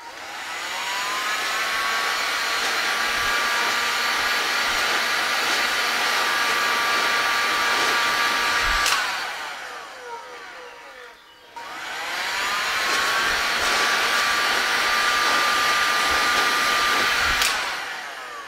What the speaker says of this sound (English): you just simply have to use a heat gun or a hairdryer and heat it up